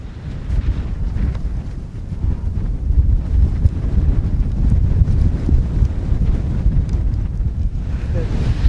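Strong wind buffeting the microphone on snowy Whistler Mountain, a loud continuous low roar that gusts and swells without pause.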